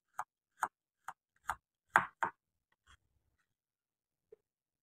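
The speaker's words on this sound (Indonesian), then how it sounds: "Dua siung bawang putih kemudian diiris tipis." A knife thinly slices garlic cloves on a cutting board in a home kitchen: six crisp, separate chops land about every half second, then silence and one faint tap.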